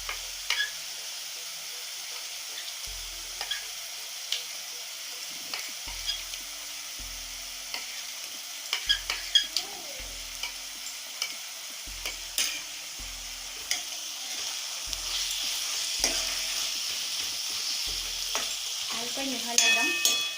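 Dried sidol fish fries in hot oil, a steady close sizzle under repeated scraping stirs of a spoon in the pan that come in an uneven rhythm and grow busier toward the end.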